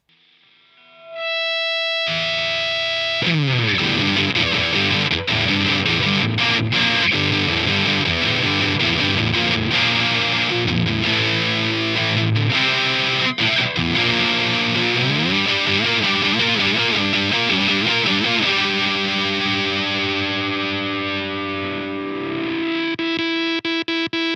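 Heavily distorted hollow-body electric guitar plays chords and riffs continuously through a Walrus Audio 385 MkII high-gain overdrive pedal, loud and saturated, with a noisy fizz around the notes.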